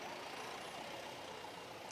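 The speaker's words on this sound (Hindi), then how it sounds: "ये गाड़ियों का काफिला कम होने का नाम नहीं ले रहा है।" A convoy of trucks and police vehicles passes on a road in Mokama, a continuous broadband roar of engines and tyres from nearby, steady and unbroken, with no talk.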